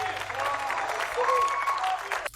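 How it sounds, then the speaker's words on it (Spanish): Audience applause after a vocal performance, steady and moderately loud throughout, with a faint melodic tone or voice riding over the clapping. "¿No podían aplaudir más fuerte?"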